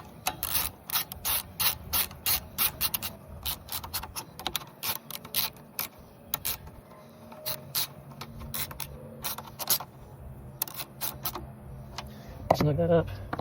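A 10 mm ratchet clicks in rapid, repeated bursts while tightening breather box bolts on a Southland walk-behind trimmer, close and crisp, with a brief clatter near the end.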